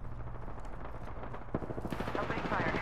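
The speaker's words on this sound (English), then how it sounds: "Opening fire. Target over there." Automatic gunfire erupts in an Apex Legends ranked match, with rapid, closely spaced bursts of shots starting partway through and running to the end over a low rumbling game background, while voices speak alongside.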